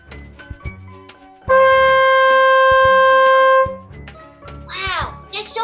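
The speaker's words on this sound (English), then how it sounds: "you blow through it with your lips together to make that buzz, you get a sound like this" A trumpet sounds one strong, sustained brass note for about two seconds, blown through the mouthpiece with buzzing lips. Loud and close, with shorter clattering sounds before it and a voice speaking after it.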